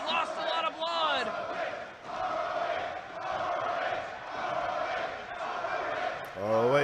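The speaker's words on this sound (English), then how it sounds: "The crowd enjoying the competitive nature of this contest." Wrestling crowd at an indoor independent show cheering with a steady roar throughout, voices of a commentator talking over the noise, swells of shouting near the start and end.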